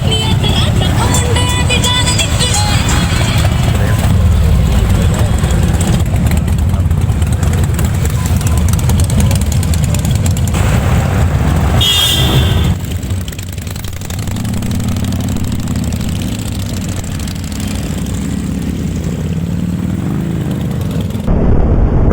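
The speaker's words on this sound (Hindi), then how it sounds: "उनके पास महंगी बाइकें हैं, तेज चला रहे हैं" Fast, expensive motorcycles ride along a road in Ladakh, near Leh, making a loud, continuous engine drone with wind rush that dips slightly partway through and then carries on steadily.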